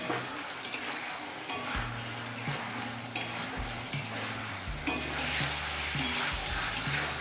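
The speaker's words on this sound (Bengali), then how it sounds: "এবারে সব কিছু খুব ভালোভাবে কষিয়ে নেব" Spices and raw banana with a splash of water are stir-fried in a pan for a hilsa fish-head curry, a steady, fairly quiet sizzle broken by repeated spatula scrapes and clinks.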